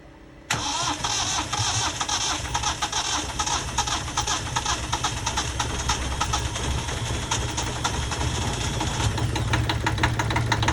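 A boat's engine, its raw water system freshly reworked after repairs, cranks and catches, then runs steadily at a loud, continuous rumble with rapid knocking pulses through the rest of the stretch.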